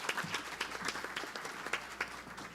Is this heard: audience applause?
yes